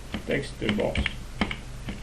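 Fingers tap on a computer keyboard in quick irregular clicks, close and clear, while someone speaks over the typing.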